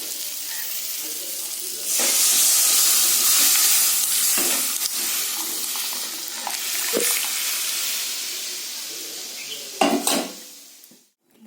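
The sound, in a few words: pouring dal into pan with mustard seeds and chillies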